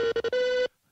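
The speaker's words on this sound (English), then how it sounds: "the phone's ringing again" A brief electronic telephone tone, three quick pulses then a sustained beep, cutting off abruptly into silence.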